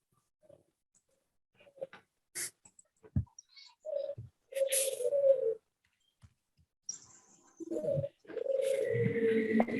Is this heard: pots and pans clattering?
no